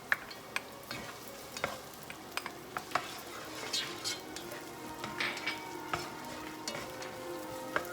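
Garlic frying in a pan for pork spareribs with black beans, a steady close sizzle with irregular clicks and taps of stirring utensils against the pan.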